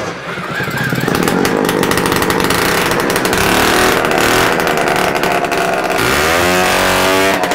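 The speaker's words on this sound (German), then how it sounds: "Einmal ohne Auspuff zum Gucken, ob er noch läuft." A small Piaggio Ciao moped engine runs loud and raw with no exhaust, a harsh buzzing rattle that holds steady then revs up near the end.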